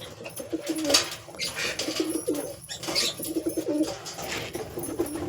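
A group of pigeons keeps up repeated low cooing nearby, calls overlapping in bursts with short pauses and a brief rustle of movement, no voices.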